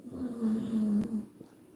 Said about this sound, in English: Sorry about Button snoring.